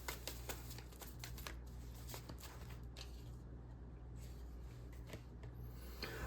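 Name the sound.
shuffling moon tarot cards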